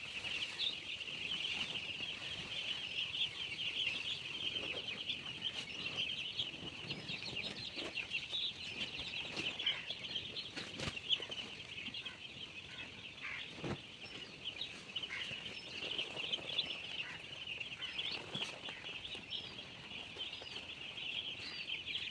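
Steady chorus of high, continuous peeping from day-old chicks on a poultry farm, busy and unbroken throughout, with occasional soft clucks and clicks underneath.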